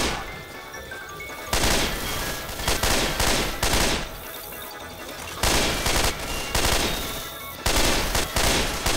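Loud bursts of gunfire from Left 4 Dead 2, rapid automatic volleys in several long stretches separated by brief lulls, dense and continuous with no talking.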